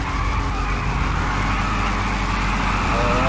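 A car in GTA 5 does a burnout, its engine roaring steadily while the tires squeal continuously and loudly throughout, a dense, sustained skid close up with no pause.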